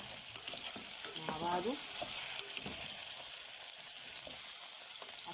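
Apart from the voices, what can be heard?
stirring potatoes and spices frying in a pan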